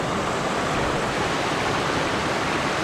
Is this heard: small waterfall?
yes